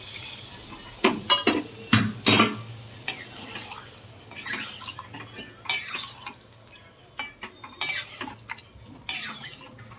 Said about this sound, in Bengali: দেখো এবারে জলটা দেবো